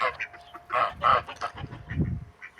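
A yard flock of three roosters and twelve hens makes soft, close clucks and short calls in scattered bursts against quiet outdoor background.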